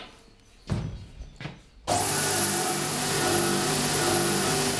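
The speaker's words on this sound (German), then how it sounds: "Mit der Bandschleifmaschine reduziert der Schreinermeister die Breite des Bogens." After a couple of brief knocks, a belt sander starts up and grinds steadily against a wooden recurve bow, its loud continuous whine and rasp filling the rest of the clip.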